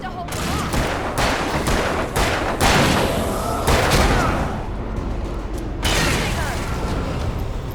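Sustained bursts of gunfire in the Alan Wake video game, rapid overlapping shots and thuds ringing out loud and close over several seconds, with voices shouting in the background.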